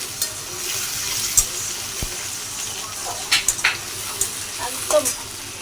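Besan boras, gram-flour fritters, fry in a pan with a soft, steady sizzle and a few light clinks and stirring sounds over a faint background hiss.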